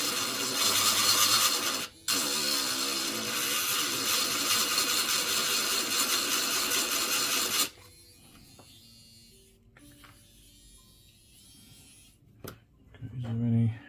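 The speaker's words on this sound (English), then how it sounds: "I've got this little grinding pen thing" A small grinding pen buzzes loudly and continuously against the rough edge of a Samsung Galaxy Tab S6 Lite during screen repair, then cuts off, leaving quiet handling noises and a brief spoken remark near the end.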